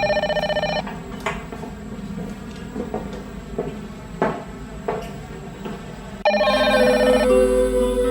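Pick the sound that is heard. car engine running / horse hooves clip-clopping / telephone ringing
telephone ringing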